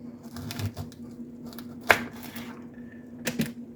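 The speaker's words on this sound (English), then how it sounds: "Okay, I've got all my Brussels sprouts halved." Kitchen knife cutting Brussels sprouts in half on a board, with several sharp chops and thuds spaced irregularly, one louder strike standing out, and a faint low hum beneath.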